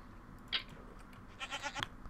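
Goats bleating in Minecraft, two short nasal bleats about a second apart, the second longer and wavering, over a faint ambient background.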